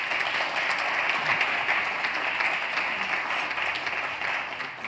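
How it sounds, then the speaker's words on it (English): A conference audience applauds a chef after a plant-based cooking demonstration at a culinary summit, a steady, moderately distant wash of many hands clapping that holds for about five seconds before tapering slightly. "Let's give him a round of applause."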